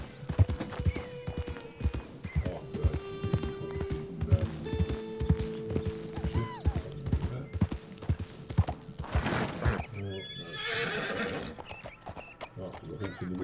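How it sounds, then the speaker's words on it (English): Horse hooves clip-clopping in The Witcher 3 video game, a steady close rhythm of hoof beats with a whinny toward the end, under a voice talking over it. "My horse, by the way, is called Roach"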